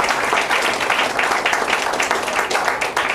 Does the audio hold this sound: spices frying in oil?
no